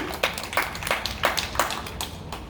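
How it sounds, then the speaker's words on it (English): Applause for jazz musicians at a poetry and jazz evening in a museum: a small audience's claps, crisp and fairly evenly spaced, that keep a steady rhythm for a couple of seconds with no talking. "please give applause to Vince Evans on piano, Jay Jefferson on drums"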